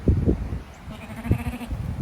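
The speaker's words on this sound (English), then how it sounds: "Goats." Goats bleat in short, close calls, several brief cries bunched together on a farm, loud against quiet background rustle with no talking.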